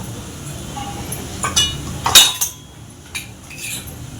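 A metal spoon clinks and scrapes against a pot while homemade masala goes in for a Satara-style black ghevda dal curry, a few sharp close taps and knocks over a faint background hum.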